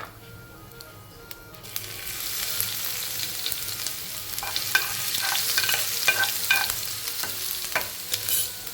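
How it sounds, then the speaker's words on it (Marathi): Garlic paste hits a cumin and mustard seed tempering for a village-style stuffed ridge gourd dish, bursting into loud sizzling that builds and holds, with the spoon scraping and clicking in the pan nearby, no talking. "जिरे मोहरी थोडी तडकली की त्यामध्ये थोडी लसणा लसणाची पेस्ट घालून घेऊ"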